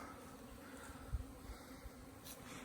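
Bees buzz around a flowering tree, a faint, steady outdoor hum with a low thump near the middle.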